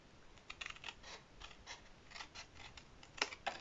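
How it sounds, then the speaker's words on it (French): Scissors snipping diagonally through a paper square, a string of quick crisp close cuts with a sharper snap near the end, faint and with no talk. "Et là, à l'angle, je coupe en diagonale."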